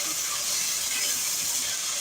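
Chicken frying in a pot for a khada masala stew gives off a steady, bright sizzling hiss, continuous and even for the whole moment.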